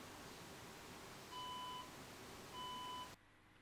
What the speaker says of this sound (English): It answers with a beep.